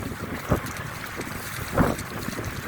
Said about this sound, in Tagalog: Lalakas na ng alon guys